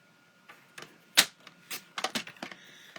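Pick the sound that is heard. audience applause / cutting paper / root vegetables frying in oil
cutting paper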